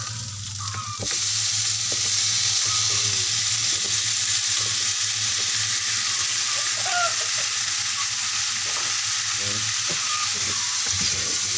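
Squash stirred in a frying pan with pepper, a steady close sizzle with repeated stirring scrapes after a quieter first second.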